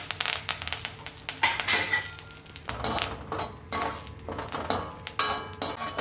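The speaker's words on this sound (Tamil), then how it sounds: "இந்த கருவேப்பிலையை பொரித்து எடுத்துக்கலாம்." Curry leaves crackle and sizzle in hot sesame oil, with bursts of spattering and occasional stirring clinks against the pan.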